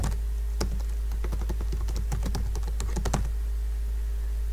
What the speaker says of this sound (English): Type it in, I'll hit enter